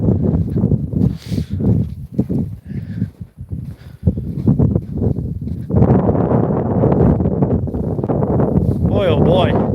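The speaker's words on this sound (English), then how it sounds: "Oh, that wind's biting today." Biting wind buffets a microphone outdoors in South Dakota, a loud continuous rumble that rises and thickens in the second half, with someone talking and rustling handling noise over it.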